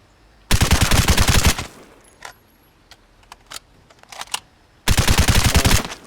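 Automatic bursts from the SVU rifle in the video game Vigor: two loud, sustained volleys of rapid shots, one at the start and one near the end, separated by faint clicks and handling noises.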